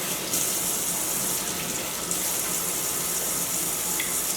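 Hands washed under a running tap in a home kitchen while cooking; a steady, loud gush of water runs continuously up close, with no voices.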